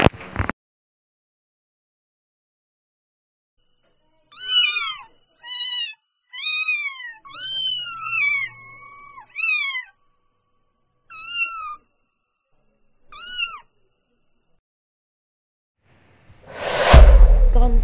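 A cat meows about eight times in clear, separate calls spaced through the quiet, bracketed by brief louder noises at the start and end.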